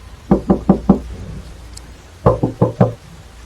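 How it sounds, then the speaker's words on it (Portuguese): Two sets of four firm knocks on a house door, close and loud, separated by a short quiet pause, with soft rain-like background hiss and no talking. "Bati novamente."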